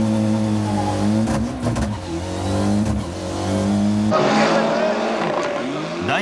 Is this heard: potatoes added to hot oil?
no